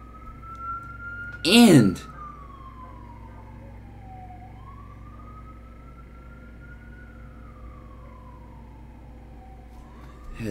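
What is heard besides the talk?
ambulance siren passing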